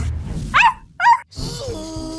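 A voice mimics a stray dog with two quick yelping barks, close and loud, followed by a whiny vocal tail over a cartoon game soundtrack.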